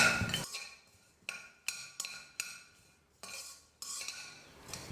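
Sesame seeds dry-roasting in an empty pan for idli podi, stirred with a utensil that scrapes and clinks against the metal in about eight distinct strokes, each followed by a soft rustling hiss.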